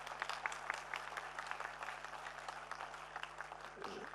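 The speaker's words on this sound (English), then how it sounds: "And you can clap for them even louder." An audience at a live ethnopharmacology seminar gives the speakers a steady round of applause, a fairly faint, continuous patter of many hands that fades slightly toward the end.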